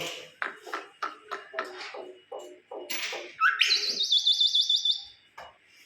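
A pet myna bird calls repeatedly, sharp chirps and whistles in a rapid rhythmic series, ending in a bright warbling trill, close and loud.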